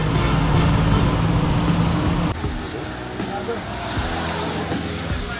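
A passenger bus rolls along a Bangladeshi road with a steady engine rumble and road roar that is louder at first, then drops to a softer, continuous drone partway through.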